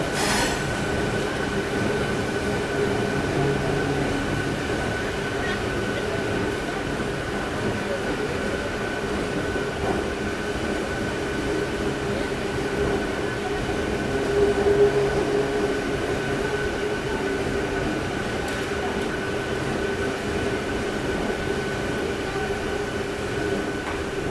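Bangalore-Anantapur MEMU train 66559 at Dharmavaram Junction gives a continuous loud rumble with steady wheel squeal and rattling car noise, running unbroken for the whole stretch with a brief swell midway.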